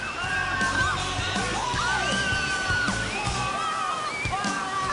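Several people shriek and yell on a water slide at a theme park, over a rushing, sloshing water background, with high rising screams overlapping throughout.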